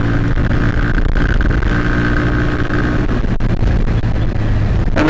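A Bajaj Pulsar NS 160 motorcycle cruising in fifth gear on the road, its engine droning steadily and loudly throughout with wind rush, no voices over it.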